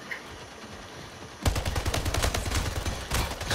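Automatic weapon fire in the arena shooter video game Splitgate bursts in abruptly after a quiet moment, then rattles on loudly and rapidly as sustained close-range shooting with no voices.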